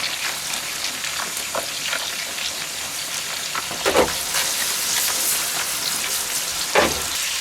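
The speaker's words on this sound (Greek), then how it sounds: "Και τσιγαρίζουμε για άλλα 2 λεπτά, πάντα στη μέγιστη θερμοκρασία." Chopped leek sizzles and crackles steadily in a hot pan over maximum heat while lamb liver dish cooks, with a few louder stirring bursts partway through; no voices.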